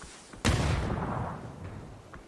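A single sharp, heavy gunshot from a PUBG esports match bursts out abruptly and then rings into a long decaying echo, with faint distant pops after it.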